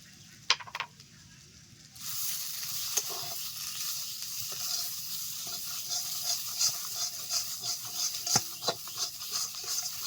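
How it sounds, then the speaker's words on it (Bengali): Mashed drumstick leaves, dried down with salt, turmeric and a little sugar, are stirred in a pan: after a couple of early knocks, a steady close sizzle with repeated scraping strokes of the spatula, no talk. "ভালো করে মিশিয়ে নেবে"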